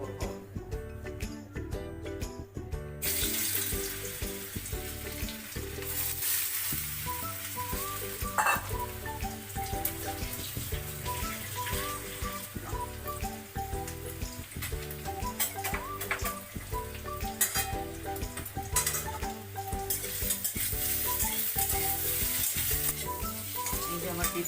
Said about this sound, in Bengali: আলুটা যেন বেশি সেদ্ধ না হয়, জাস্ট হালকা সেদ্ধ হবে, একটু শক্ত শক্ত থাকবে, দিয়ে আমি এটা ডিপ ফ্রাই করব